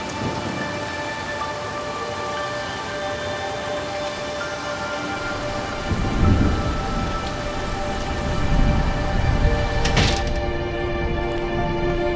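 Steady rain patters throughout, with low thunder rumbling in twice midway through and a sharp crack near the end, no voices.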